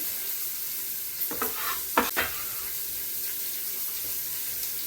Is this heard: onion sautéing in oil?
yes